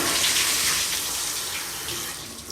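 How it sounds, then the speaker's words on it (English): Water rushing steadily from a fixture in a main bathroom during a move-in inspection, a loud continuous broadband gush that tapers slightly toward the end with no talking. "as you can see, the water flushed"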